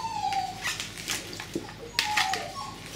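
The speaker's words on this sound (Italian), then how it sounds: "No babbo, non devi piangere, tu sei un cagnolino grande." A dog whimpers and whines in short high-pitched cries, a few close yips and plaintive whines spread across a few seconds, with quiet gaps between them.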